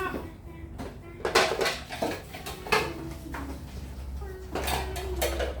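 Dishes and plates clattering as they are washed by hand at home, with repeated clinks and knocks of crockery at close range over a steady water background, interrupted by brief children's and adults' voices.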